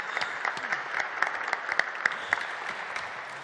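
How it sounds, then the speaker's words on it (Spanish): Audience applause at a business talk session in Málaga, steady scattered clapping from a moderate crowd with distinct individual claps, lasting a few seconds with no talk over it. "Pido un aplauso."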